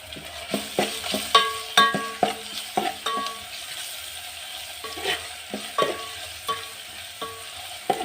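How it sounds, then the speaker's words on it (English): Onions, ginger and garlic fry in a pan with a steady sizzle, while a spoon stirs and scrapes in quick, uneven knocks and clatters close by, with no talking. "After the onions have cooked for a while, you're going in with ginger and garlic."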